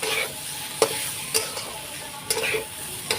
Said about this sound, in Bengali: এইটা এইবার নাড়াচাড়া করে নেব